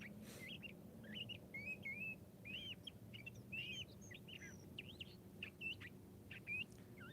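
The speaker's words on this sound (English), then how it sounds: "A lot of birds." Wild birds chirp and call in the morning, a steady stream of high tweets and short whistled notes over a low rumbling background, fairly distant and soft.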